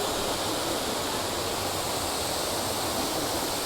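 Waterfall on a mossy, rocky creek in Mt Field National Park, a steady broadband rush of falling water that stays loud and unbroken throughout, with no voices.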